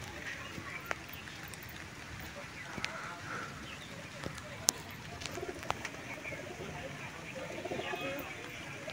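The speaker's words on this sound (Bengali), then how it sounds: "মোটামুটি নেমে পড়েছে পায়রায়।" Pigeons at a backyard loft, soft low cooing and fluttering with scattered clicks and wing flaps, heard faintly at moderate distance amid outdoor ambience.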